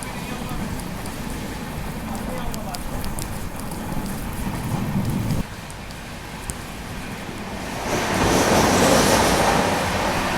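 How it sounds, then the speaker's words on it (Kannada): Heavy rain lashes a train on the coastal Karnataka line from Mangaluru to Goa, a steady, close, rushing roar that dips briefly mid-way, then swells louder toward the end. "ಅಷ್ಟು ಮಳೆ ಆಗತೈತಿ"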